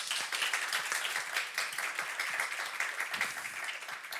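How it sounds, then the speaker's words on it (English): A crowd at a Pride event talk gives a round of applause, many hands clapping in a dense, continuous burst that tapers slightly toward the end, with no one speaking over it. "A round of applause."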